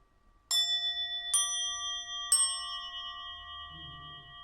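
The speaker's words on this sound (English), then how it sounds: "Sometimes the bells are not in harmony," Three bell strikes ring out one after another about a second apart, each leaving long overlapping tones that clash rather than blend, fading slowly in a quiet space.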